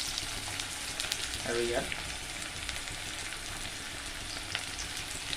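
Turmeric sizzles in hot oil in a pan while a fish curry is being cooked, a steady crackling fry throughout with a brief voice speaking over it.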